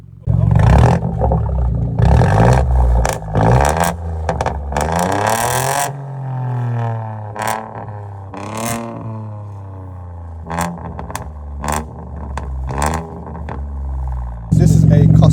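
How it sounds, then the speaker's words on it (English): A small BMW 218i three-cylinder engine revs hard through a loud, raspy custom straight-pipe exhaust, climbing and falling in repeated bursts with crackling pops, then settling into a lumpy idle between blips. "Get ready to hear some beautiful 3-cylinder noise."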